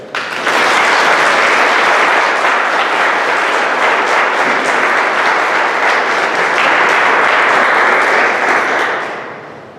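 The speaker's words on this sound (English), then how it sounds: "please give a round of applause for our outstanding seventh graders" Sustained audience applause at a seventh grade promotion ceremony, dense steady clapping from a large crowd lasting nearly ten seconds before tapering off at the end.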